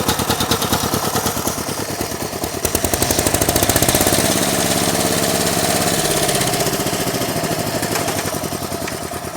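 A Chinese walk-behind tractor's small engine runs right after a clutch repair, a loud, close, rapid chugging putter that holds a steady pulsing rhythm throughout.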